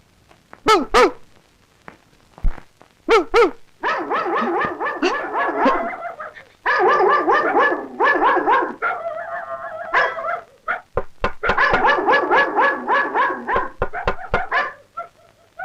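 A voice imitates a dog, producing close, fairly loud bursts of barks, yips and whimpering whines in irregular clusters, with no other talk.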